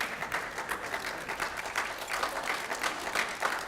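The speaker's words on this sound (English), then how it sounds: "And you can clap at her." Church congregation claps in a soft, fairly brief round of applause, many hands patting at a modest, even level with a slightly uneven rhythm and no talk over it.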